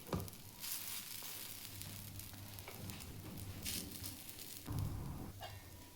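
Rice and lentil appe batter frying in a covered appe pan, a soft, steady sizzle with a low hum underneath and a couple of brief clatters, heard quietly with no talking.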